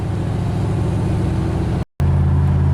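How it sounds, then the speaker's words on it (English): A Chevrolet Equinox coasts down a long hill with the throttle fully released. A steady, low engine and road drone is heard from inside the cabin, with a brief dropout near the end. "And now we're going to let off the throttle completely."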